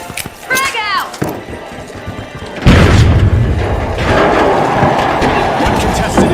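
A frag grenade goes off in a video game with a sudden loud, close boom. A brief voice is heard beforehand, and a rumbling, crackling tail trails behind the blast.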